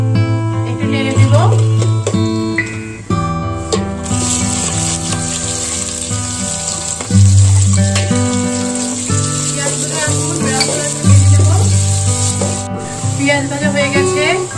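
Cinnamon, green cardamom, cloves and bay leaves sizzling in hot oil in a pan for a beef curry, a steady crackling hiss under someone talking, with a few stirring sounds.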